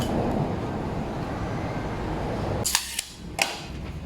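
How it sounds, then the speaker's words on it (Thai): A pneumatic nail gun fires two pins into a wooden router jig used for cutting grooves. Two sharp, loud shots come about half a second apart, following a stretch of steady broadband workshop noise. "เราก็เอาปืนยิงล็อกไว้ก่อน ยิงไว้สองตัวพอนะครับ"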